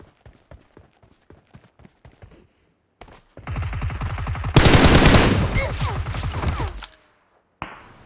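Rapid gunfire in PUBG Mobile: spaced single shots, then a sustained loud burst of automatic fire from an M20 that cuts off abruptly.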